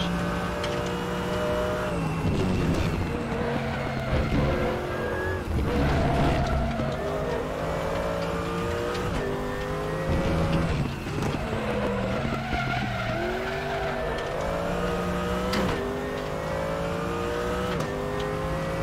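Mercedes AMG GT3 in a racing video game, engine revving loudly and continuously through repeated upshifts and downshifts, pitch rising and dropping with each gear change, with occasional tire squeal.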